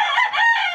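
A gamefowl stag gives a single short, loud, close crow, over in under a second.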